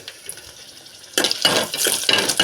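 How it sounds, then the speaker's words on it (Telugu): Dried red chillies drop into hot tempering oil for a cucumber chutney made with the peel, starting a sudden bright, crackling sizzle that pulses with stirring after a quiet start. "ఫస్ట్ ఎండుమిర్చి వేసేసుకుందాం ఫ్రెండ్స్"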